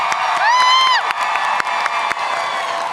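A crowd at a live Dungeons & Dragons Baldur's Gate event breaks into applause, with a loud whooping cheer early on over the dense clapping.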